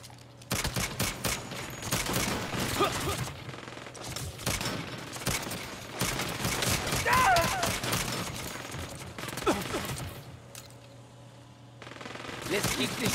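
Gunfire in the Saints Row video game: repeated rapid bursts of automatic shots and scattered single cracks, loud and close, with brief pauses and a player talking at times.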